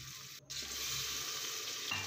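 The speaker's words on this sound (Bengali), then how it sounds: "মশলাটায় একটু একটু করে জল দিয়ে দিয়ে কষাতে হবে" Spice paste fries in a pan with small splashes of water stirred in, a steady close sizzle with a brief gap near the start before the hiss resumes evenly.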